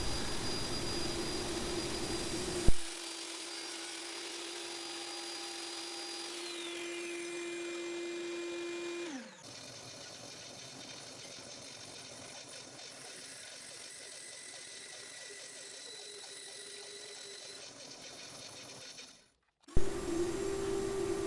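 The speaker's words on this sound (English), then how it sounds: "Using the router table to cut a 1/4-inch slot in the dado that I've cut previously." A router table cuts a 1/4-inch slot into a previously cut wooden dado for a box lid, a loud steady whine with a falling pitch as the motor spins down, then a lower, noisier run before it stops.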